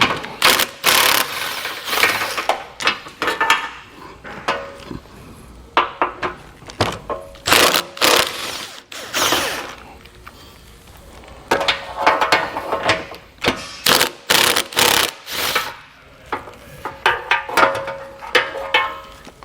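A power tool runs nuts off the studs while a hidden trailer hitch is mounted on a 2022 Subaru Impreza, loud repeated whirring and rattling bursts with brief pauses between them, close up, with no talking.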